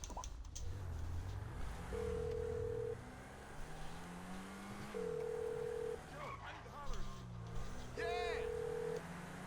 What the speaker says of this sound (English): so we got a phone call from Jimmy, phone call from Steve, from Lamar now.